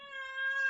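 A cat gives one short, clear, tonal meow, fairly quiet and alone, with no other sound around it.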